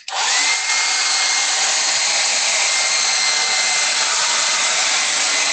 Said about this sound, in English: that's why we use a hairdryer.